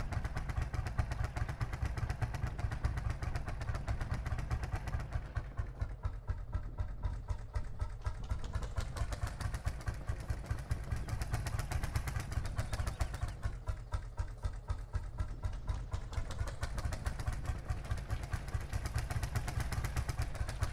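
Engine of a vehicle running steadily at a near, loud level with a rhythmic motorcycle-like thrum, the pulse rising and easing in waves over the whole stretch with no talk.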